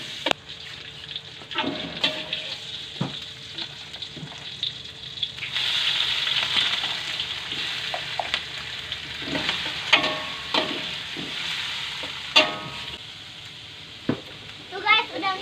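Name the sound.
garlic and shallots being stir-fried in a pan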